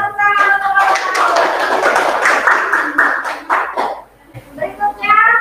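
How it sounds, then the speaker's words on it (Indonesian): Group of classmates in a school classroom clapping together, a burst of quick claps in the middle with children's voices speaking before and after. "Terima kasih lima tepuk tangan untuk teman-teman."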